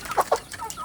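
Free-range village chickens cluck nearby: two quick, sharp clucks, then softer scattered calls, with no voices.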